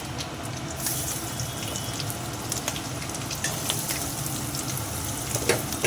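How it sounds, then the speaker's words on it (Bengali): Onions fry in a hot kadai for a fish curry, a dense continuous sizzle with wet spattering and a few scraping stirs, loud and close with no voices. "পেঁয়াজটা দিয়ে অল্প ভেজে নেব"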